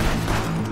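A brief, loud burst of gunfire in the video game Contraband Police, a single dense crack of shots over a steady low hum.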